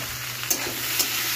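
Okra and potato fry in a pan with salt and turmeric, giving a steady soft sizzle with a couple of faint clinks of stirring, close and with no talk.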